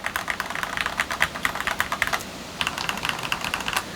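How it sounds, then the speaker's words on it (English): A Keychron V1 knob-version keyboard, modified with black switches and Keychron Retro Mac keycaps, is typed on in quick, steady bursts of close, clacky keystrokes, with a brief pause midway and no talking. "right now I'm rocking Keychron V1 knob version keyboard, which I have modified using black switches"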